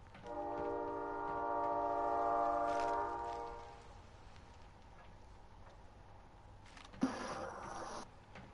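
A video game train sounds a sustained multi-tone horn for about three seconds, moderately distant, followed by quiet rumble and a brief sharp clatter near the end; no talking.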